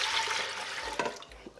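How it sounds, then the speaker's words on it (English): Fruit juice is poured back into a strainer, making a close, splashing gush of liquid that runs for under two seconds and thins out with a few drips at the end. "now I'll pour the juice back in here"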